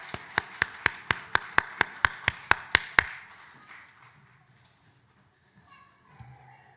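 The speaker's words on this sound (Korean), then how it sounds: "박수로 축복하겠습니다." A children's church congregation claps in blessing, about a dozen sharp unison claps in a steady even rhythm, then stopping into near quiet with faint murmurs.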